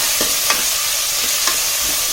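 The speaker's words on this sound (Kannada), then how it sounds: "ಟೊಮೊಟೊನು ಕೂಡ ಸಾಫ್ಟಾಗಿ ಫ್ರೈ ಆಗಬೇಕು" Tomatoes frying with onion and curry leaves for a sprouted horse gram sambar, a loud dense sizzle heard close up, punctuated by a few quick stirring scrapes.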